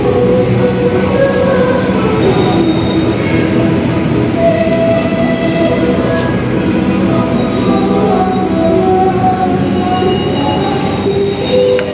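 Sri Tanjung passenger train squealing steadily on its wheels as it brakes into Madiun station, a loud continuous metallic screech over rumbling rail noise, with no talk.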